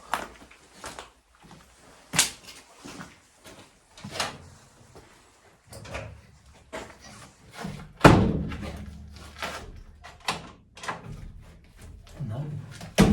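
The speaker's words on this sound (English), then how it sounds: "Can we open that door?" An old door in an abandoned, falling-apart house is worked open, giving a series of wooden thumps, knocks and a heavier thud, with people talking quietly in between.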